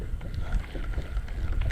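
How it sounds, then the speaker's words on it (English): Wind buffets an outdoor microphone, producing a continuous low, rumbling roar with uneven gusty surges throughout and no voices. "The wind makes it hard to record."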